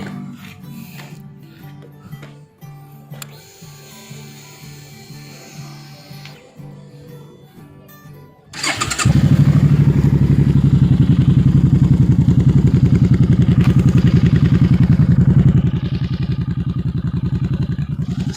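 After several seconds of clicking and rattling, a Suzuki Boulevard C50 motorcycle engine with an aftermarket exhaust fires up and idles loudly and roughly, then settles to a slightly lower, steady running note.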